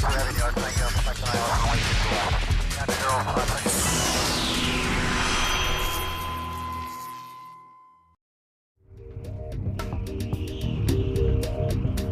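A loud airplane drones steadily with a sweeping engine whine, then cuts to brief silence before a busy, clattering roar returns.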